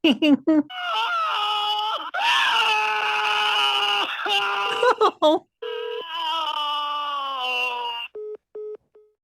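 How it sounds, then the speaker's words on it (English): A man screams and yells in long strained bursts, loud and close with a hoarse, distorted edge, broken by brief gaps and ending in short clipped tones. "Yeah, it's a guy screaming and yelling."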